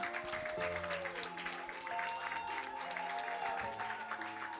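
Audience applause at a charity dinner, a steady, full wash of clapping from a room of diners, held at an even level throughout with a sustained musical tone lingering beneath it.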